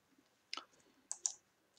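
Mouse clicks while working through an Aadhaar address-update web form: three sharp, close clicks, a single one followed by a quick pair, in near silence.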